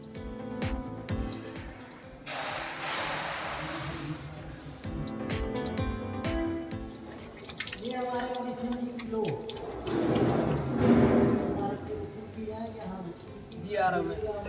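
Water from a tap runs and splashes steadily while hands are washed at a gurudwara on the road to Ladakh, close by, with someone talking over it throughout.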